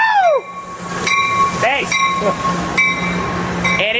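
A train passes the Santa Fe Depot with engine 456 pushing from the rear, a loud steady rumble with rail squeals and tonal horn-like whines, while a voice speaks briefly over it.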